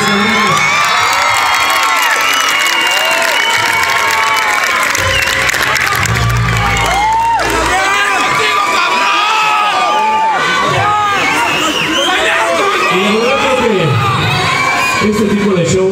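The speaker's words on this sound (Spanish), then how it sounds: "El aplauso para ustedes, amigos." Audience at a live show cheering, shouting and applauding continuously, a loud dense crowd roar with whoops and clapping throughout.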